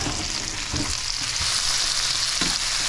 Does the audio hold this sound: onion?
yes